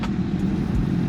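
A Honda CB650R middleweight motorcycle engine drones loud and close on the road, a steady low rumble with slight pulsing throughout.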